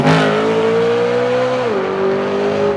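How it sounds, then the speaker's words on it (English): A BMW M4 Competition F82 runs loud and close with its active exhaust open, holding a steady droning engine tone that drops in pitch partway through, without distinct pops. "it does open up those valves and you get a lot of pops. A lot of burbles."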